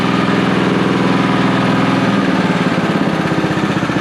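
A Honda commercial lawn mower engine idles close by, a steady low throbbing putter with an even pulsing rhythm and no voices.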